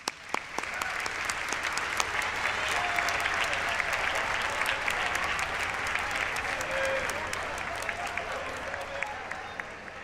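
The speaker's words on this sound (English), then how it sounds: "Let's give all of them a round of applause." Applause from an audience at a dual enrollment recognition ceremony at Montgomery College, a dense sustained wash of clapping hands that holds steady for the whole stretch and eases slightly toward the end.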